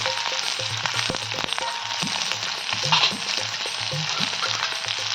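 Onion, garlic and curry leaves fry in hot oil with a steady, fairly loud sizzle, broken by light stirring clatter as they cook toward golden brown.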